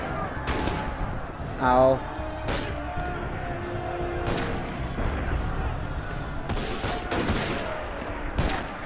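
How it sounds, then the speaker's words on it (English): Gunfire in Assassin's Creed Unity cracks out in scattered single shots over a steady crowd-like background, while a player briefly speaks and yelps. "Bro, can you stop shooting at me?"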